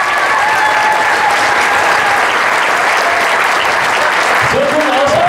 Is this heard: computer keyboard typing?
no